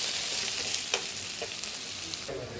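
Bottle gourd pieces cooking in a pot and being stirred: a steady, fairly quiet sizzling hiss with a few soft scrapes, and no talking.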